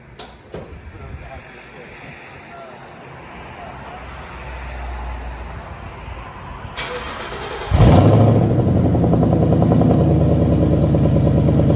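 A 2020 Ford Mustang 5.0 GT with an aftermarket exhaust is heard from inside the cabin: a steady engine rumble builds gradually, then jumps to a loud, deep roar that holds to the end.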